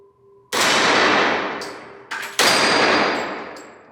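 Pistol shots from an STI 2011 competition handgun strike a steel target, two sharp loud cracks each followed by a ringing metallic clang that decays slowly, with a fainter ping between them.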